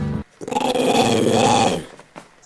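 A dog gives a long, close, loud growling vocalization with a rising and falling, speech-like pattern, as though trying to talk, followed by a short softer grunt.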